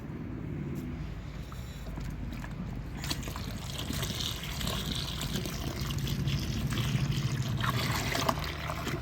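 Water trickles and pours steadily into a pot on a wood-fired stove while kurdai is being made, a continuous close splashing with no speech.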